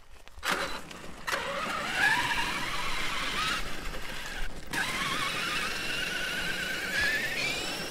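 A brushless Traxxas Summit RC truck on Traxxas X-Maxx tires at full throttle gives a high electric whine that rises in pitch as it speeds up, with gravelly tire and ground noise underneath, no voices.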